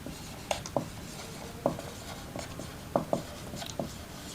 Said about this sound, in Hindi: फिजिकल क्वांटिटी की थोड़ा सा डिफिनीशन लिखते हैं